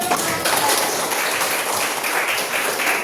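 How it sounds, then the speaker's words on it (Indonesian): A group claps during a mathematics lesson, giving a continuous, fairly loud patter of many hands that rises and falls slightly but never stops over a few seconds. "Ya, tepuk tangan dulu."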